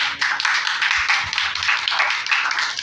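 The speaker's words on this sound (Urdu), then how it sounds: "بچے سارے ان میں جو جذبہ وہی ابھی تک تالیاں بھی بجا رہے ہیں" Children applauding at an Independence Day celebration in Attock, giving steady, lively clapping that continues throughout without pause.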